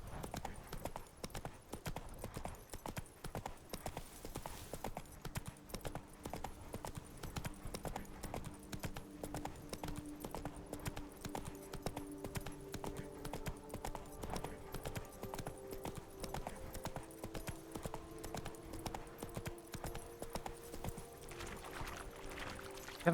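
Roach the horse trots on in The Witcher 3 video game, hooves clip-clopping in a steady quick rhythm, fairly soft, with quiet tonal background sounds.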